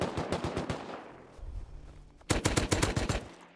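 Automatic gunfire in the survival video game Rust, a rapid burst of shots, a short lull, then a second louder, denser volley of close rounds.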